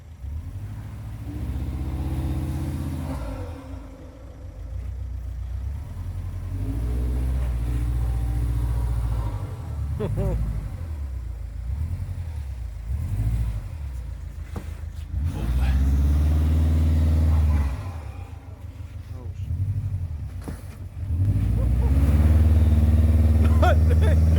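Off-road vehicle wheels spinning and digging into dirt on a trail, the engine revving hard in repeated loud surges with a low rumble, while people talk nearby.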